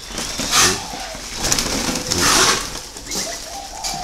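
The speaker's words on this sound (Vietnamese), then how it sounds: "Các bạn thấy mình chuyên sâu vào chim cu." Turtle doves kept in cages coo repeatedly, soft rolling calls rising and falling every second or so over a steady background hum of a busy aviary, close by and moderately loud.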